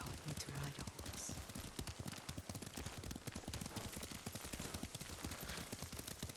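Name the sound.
horse hooves clip-clopping while riding, from Ghost of Tsushima video game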